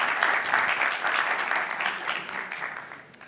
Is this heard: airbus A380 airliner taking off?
no